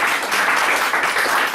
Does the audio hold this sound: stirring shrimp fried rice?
no